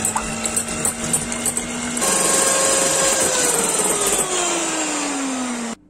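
An electric hand mixer whips egg whites with a pinch of salt for a walnut and coffee cake. Its steady motor whine runs loud and continuous for several seconds, shifts pitch partway through, then cuts off abruptly.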